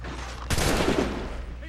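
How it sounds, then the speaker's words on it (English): Gunfire in the video game Assassin's Creed 3 breaks out in a loud, dense volley after half a second of near quiet, then crackles on as a sustained fusillade over a low background rumble. "Who the hell is shooting at me?"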